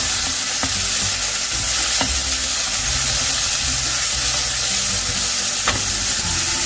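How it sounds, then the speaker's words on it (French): Onions sizzle steadily in a hot pan while being browned, a dense continuous crackle and hiss with a few sharp clicks of a utensil against the pan, no voices. "Là, je fais bien revenir mes oignons."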